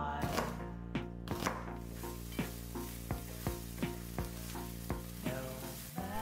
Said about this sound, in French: Je fais cuire tout dans un peu d'huile d'olive à feu moyen